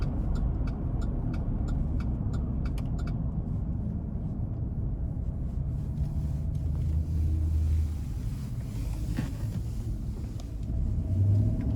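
A 2011 Chevrolet Silverado 1500 LT Extended Cab pulls away under throttle, its engine a steady low rumble heard from inside the cab, with faint ticking early on and the drone holding throughout.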